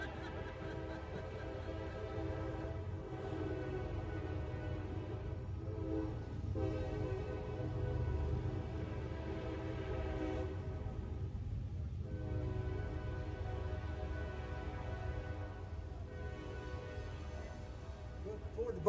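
A train rumbles past an outdoor tree dedication ceremony in a park, a continuous low rolling drone with tonal horn-like bands lasting throughout, moderately distant and steady.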